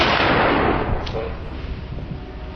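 A hunting rifle fires once at a large wild boar in rural Calabria, a loud close boom that opens the clip and rolls off into a long fading rumble and echo.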